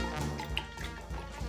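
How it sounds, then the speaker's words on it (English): Sazerac rye whiskey pours in a soft, close trickle with faint gurgles and drips, quiet and unbroken. "I always love the sound of that pour."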